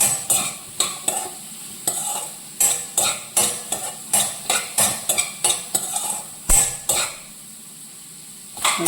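Vegetables sauté in butter in a pan for pasta, with a soft sizzle beneath repeated scraping and clinking as a utensil stirs against the pan in a steady rhythm, loud and close with no talking.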